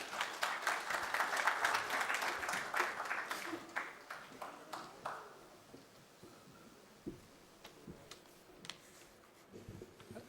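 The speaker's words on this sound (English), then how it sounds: "Another round of applause also for Margaret and her facilitation." Applause for a panel at a conference session starts as a full round of clapping, then tapers over several seconds into a few isolated claps, fairly faint and distant.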